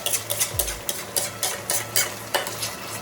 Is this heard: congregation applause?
no